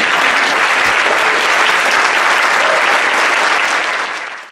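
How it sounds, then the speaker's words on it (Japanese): A hall full of people at a sake competition awards ceremony gives loud, dense, sustained applause that holds steady for several seconds and then cuts off abruptly. "大きな拍手をお送りください"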